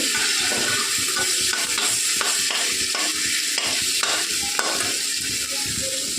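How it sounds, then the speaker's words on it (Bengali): Garlic and freshly grated ginger frying in hot oil give a steady, close sizzle with scraping stir strokes in a loose rhythm, continuous and fairly loud with no talking. "তেলে রসুন করে দিলাম রসুনটাকে হালকা ভেজে নেব"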